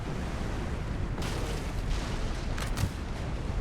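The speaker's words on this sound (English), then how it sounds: "But getting some nice shots directly into this French line." Naval cannon fire booms between ships in a Napoleon: Total War sea battle, a dense rumbling barrage with a couple of sharper blasts near the end, no talking.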